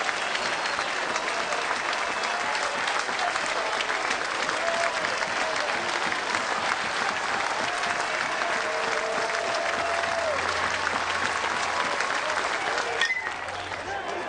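A college baseball crowd at the Cal State Fullerton vs Tulane game in 2004 keeps up loud, steady cheering and clapping, one strike from victory, a dense sustained roar that dips slightly near the end.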